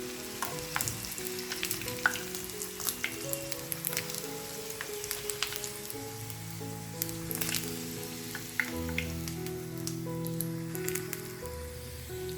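A wheat flour and onion snack cooks in a pan with a continuous close crackling sizzle like light rain, while soft musical tones play underneath and occasional utensil clicks sound.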